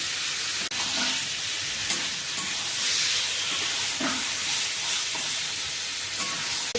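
Cumin paste fries in hot spiced oil for a curry, giving a loud, steady sizzle and hiss close up, with occasional stirring clinks and scrapes throughout.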